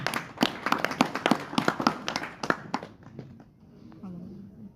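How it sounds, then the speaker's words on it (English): An audience at a spiritual talk breaks into a brief round of applause, a few seconds of sharp, separate nearby claps that thin out and fade into quiet room noise. "Round of applause, very good question"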